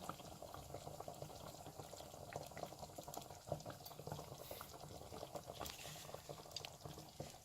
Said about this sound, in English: we have this at a nice boil now